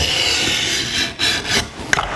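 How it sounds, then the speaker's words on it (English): A scriber dragged across 1/4 inch steel plate, giving close, loud continuous raspy scraping strokes with short breaks and a small sharp click near the end. "Scribe a line"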